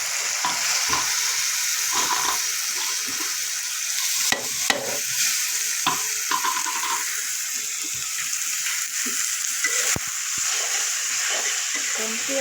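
Red amaranth greens fry in a pan with a dense, even sizzle that runs steadily throughout, with a few brief clatters and a faint voice in the background.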